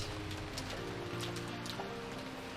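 Steady rain falls in the visual novel Umineko Chiru, a dense, even hiss filling the scene without pause, with a low hum running beneath it.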